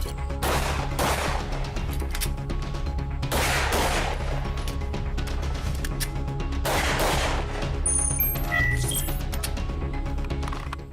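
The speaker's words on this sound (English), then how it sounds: "I'm going to shoot 2 in the back, move over to the driver's side, shoot 2 on one of the windows" Gunshots fired at an armored Mercedes-Benz W140 sedan, heard as several loud cracks spaced a few seconds apart over a steady rumble of background noise, with a faint metallic clink near the end.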